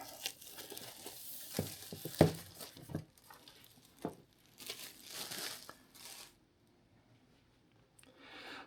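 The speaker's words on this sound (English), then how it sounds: "Get rid of the plastic." Plastic shrink wrap crinkles and tears as it is peeled off a Black Sabbath vinyl box set, close-up, in bursts of crackling and rubbing with a few sharp rips, then a brief near-silence.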